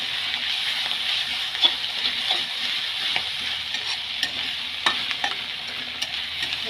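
Saag greens frying in a pan on a gas stove, a steady close sizzle with scattered stirring scrapes and small pops throughout, no voices.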